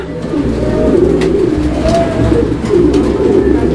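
A single yellow Gopalganj big pigeon coos repeatedly at close range, soft throaty rolling calls over a low background murmur.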